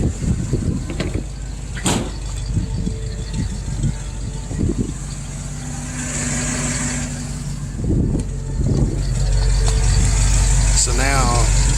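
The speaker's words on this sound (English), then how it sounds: "So now you can hear fuel pump over exhaust." FiTech fuel pump whine over a car's idling exhaust, heard from outside the vehicle; a steady engine drone with a thin mid-high tonal whine, a few clunks and a voice speaking near the start.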